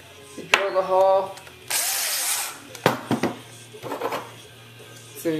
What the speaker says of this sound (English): You drill the hole.